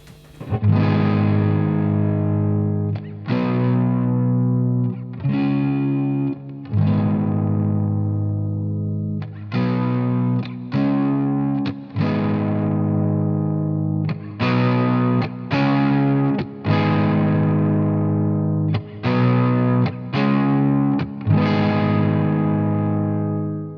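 An electric guitar through a Strymon Riverside overdrive pedal plays a run of sustained, gritty chords, each ringing out then cut short, loud and close with a slight chorus-like shimmer.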